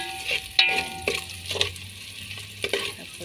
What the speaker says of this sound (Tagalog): Papulahin natin ng konti ang bawang.